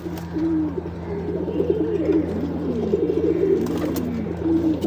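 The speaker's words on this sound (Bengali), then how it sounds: "এই যে কিছু কবুতর দেখতে পাচ্ছেন এখানেই আছে।" Domestic pigeons, including racers and homers, coo steadily in a loft, a low rolling burble repeating close by over a constant hum.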